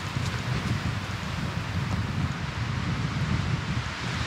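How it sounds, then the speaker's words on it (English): Strong mountain wind roars in a dense, continuous wash of noise and buffeting against the microphone, steady and close throughout, with no voices. "but boy, is it windy."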